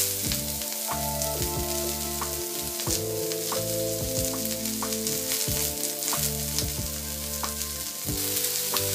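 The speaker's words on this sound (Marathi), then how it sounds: "कांदा भाजताना ब्राऊन कलरवर भाजायचा आहे, त्याचा कलर ब्राऊन झाला पाहिजे इतकंच भाजायचं।" Two medium onions browning in leftover oil in a pan, giving a steady close sizzle that runs the whole time beneath a layer of sustained musical tones.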